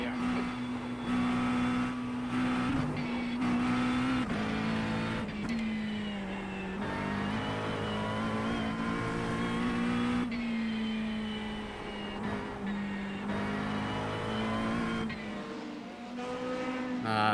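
Race car engines roar continuously in a realistic VR racing game on the Nürburgring Nordschleife, a Corvette among the pack, with steady high revving, gear shifts and brief tire squeal.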